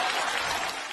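Dense, steady applause fills a short moment during a comedy sketch, loud and close, with a slight easing toward the end.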